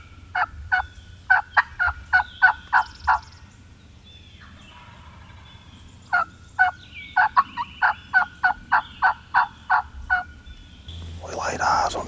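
Wild turkeys out in an open field give two loud runs of rapid, evenly spaced gobbling calls, nine or ten notes each, close and clear with a quiet pause between the bursts and a rustle of handling at the end.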